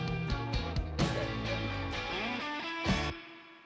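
Music with a warble effect applied during production, a recorded passage of sustained tones and sharp struck chords with a wavering pitch, heard clearly and alone.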